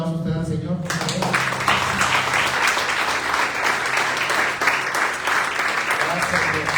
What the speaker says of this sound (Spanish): voy a darle un aplauso a usted al Señor, por favor